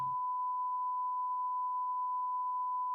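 A steady, unbroken electronic sine tone from a TV test card holds at one pitch for the whole stretch, clean and moderately loud with nothing else around it.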